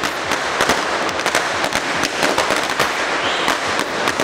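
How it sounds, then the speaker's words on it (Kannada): Firecrackers bursting in rapid, irregular volleys of sharp cracks and pops at a street celebration of Kannada Rajyotsava in Bangalore, loud and continuous with a dense crackling wash between bangs. "ನಂತರ ಪಟಾಕಿ ಹಚ್ಚಿ ಸಂಭ್ರಮಿಸಿದ್ರು."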